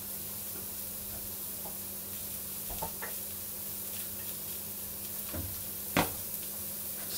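Food frying in a pan while onions are prepared for beef bourguignon, a steady faint sizzle with a few soft clicks and one sharper knock, no talking.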